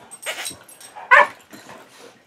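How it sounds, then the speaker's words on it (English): Several pet dogs bark, yip and whimper in short, close, excited bursts, with one sharper bark standing out midway. "They just bark, make a lot of noise."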